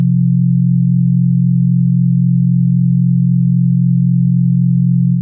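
Two sine wave notes sound together from a synthesizer as a loud, sustained drone, steady throughout with a faint beating wobble.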